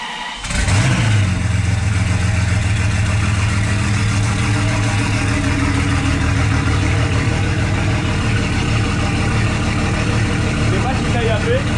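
A Citroën Traction fitted with a V12 bi-turbo engine cranks and fires up, then runs with a loud, steady, throbbing idle close by, with voices talking over it.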